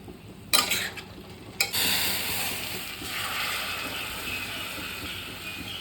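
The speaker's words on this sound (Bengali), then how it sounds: "অল্প একটু নাড়াচাড়া করে এবার এখানে গরম জলটা আমি দিয়ে দেব" Hot water is poured into masala jackfruit frying in a pan. A clatter of stirring and a sudden splash give way to a steady, loud sizzle that continues to the end.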